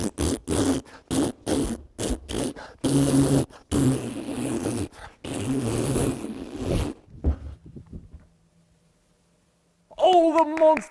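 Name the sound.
storyteller imitating a huge monster fart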